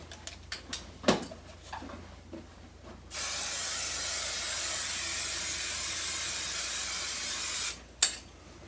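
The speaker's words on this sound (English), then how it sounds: "now I'm going to try and put my batting on this with the spray basting" Spray basting adhesive from an aerosol can sprayed onto quilt batting for a small quilt, a single steady hiss lasting several seconds, close and fairly loud, after a few light clicks and taps.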